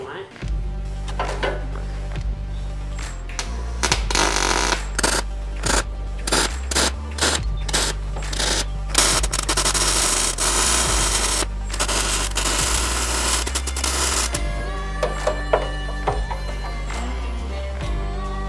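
An angle grinder works metal on a Range Rover Classic body mount, loud close bursts of harsh grinding starting and stopping over a steady electrical hum, with occasional voices.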